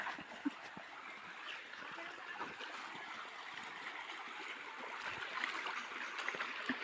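A river stream near Latag Falls in Lipa flows with a steady, broad rushing wash of water that holds throughout, with a few faint splashes and no voices.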